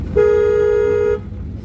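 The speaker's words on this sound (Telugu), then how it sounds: "హార్న్ కూడా కొట్టాలి" A single steady car horn blast lasts about a second during a driving lesson, loud and close over a low engine rumble, then cuts off abruptly leaving the idling hum.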